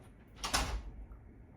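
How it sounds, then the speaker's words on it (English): A garage door is shut in a single brief, close burst of noise: a quick slide and thud, followed by quiet. "He shut the door on me."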